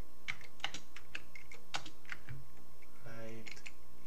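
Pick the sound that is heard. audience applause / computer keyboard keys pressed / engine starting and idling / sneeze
computer keyboard keys pressed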